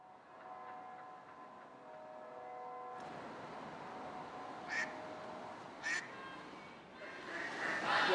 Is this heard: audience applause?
no